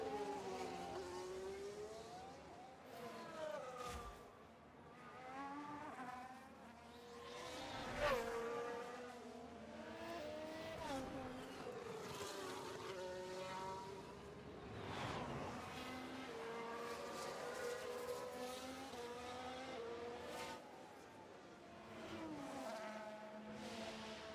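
Formula 1 race cars in the video game F1 Manager 24 at Shanghai, with engines whining up and down through gear changes as cars pass, quiet and continuous, with no talk.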